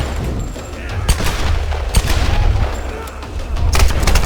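Rapid bursts of Tomb Raider gunfire crackle and boom repeatedly, loud and dense, with sharp shot transients scattered throughout.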